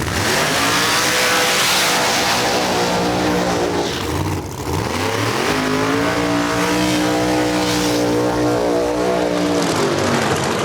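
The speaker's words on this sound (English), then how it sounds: "Next pair just finished up the burnout over in the right lane." Drag racing cars in the Outlaws series at National Trail Raceway, their engines roaring loud and sustained for about ten seconds, with a brief dip and then rising revs, no voices.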